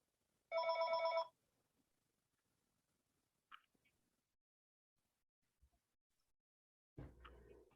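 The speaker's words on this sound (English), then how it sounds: "sorry about the phone." A telephone rings once briefly, a clear bright electronic trill near the start of an otherwise quiet room, followed by small clicks and a voice at the end.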